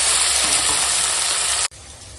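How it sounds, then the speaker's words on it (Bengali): Greens and onion fry in a hot pan with a loud, steady sizzle that cuts off abruptly and leaves a quieter hiss. "এই শাক এই জায়গাটা একটু পেঁয়াজের সঙ্গে ভেজে নেবো"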